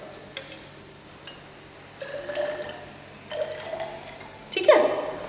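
Distilled water trickles and drips into a glass volumetric flask in a chloride limit test, with faint splashes in short separate pours, ending in a brighter glassy clink.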